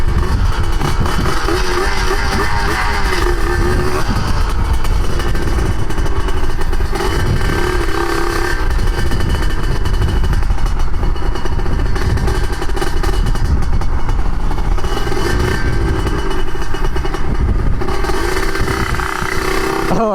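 A Serpico motorcycle ridden on the road, its engine loud and close throughout, a steady rasping drone that rises and falls slightly as it pulls through the gears, with rattling clatter underneath.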